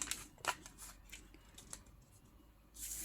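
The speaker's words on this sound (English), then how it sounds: "I'm gonna cut this graphite frame, including that inside image." Scissors snip through a paper frame with a graphite image on it, a few quiet, separate cuts spaced unevenly and close by, then a brief rustle of paper at the end.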